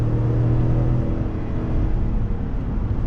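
A 2021 GMC Yukon Denali SUV pulls uphill under throttle, its engine a low steady rumble and drone heard from inside the cabin, with no talking.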